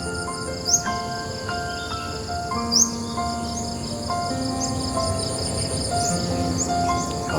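Bees and other insects hum steadily around mango blossoms beside a canal on a cool winter morning. The faint, even drone is dotted with occasional small bird chirps and no talking.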